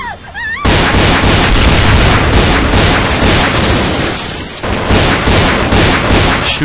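Continuous, dense gunfire from the video game Counter-Strike: Condition Zero, loud and close, with sustained bursts and booms filling the whole stretch and a brief dip midway before the firing resumes.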